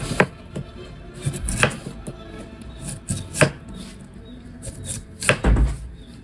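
Knife strokes slicing lengthwise through a bamboo shoot on a board, a steady series of sharp thuds and crisp cuts, close and fairly loud.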